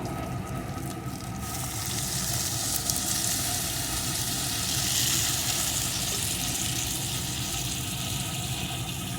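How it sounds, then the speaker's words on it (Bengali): Water goes into a pan of fried vegetables for a Bengali helencha greens dish, setting off a loud, dense, continuous hiss and sizzle that swells slightly midway and carries on steadily. "সমস্ত কিছু এখানে আমি সুন্দর করে ভেজে নিয়েছি এখন দিয়ে দেবো পরিমাণ মতো জল"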